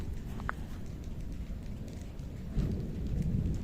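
Steady rain falling outdoors with a low thunder rumble that swells louder in the last second, one small tap early on, no voices.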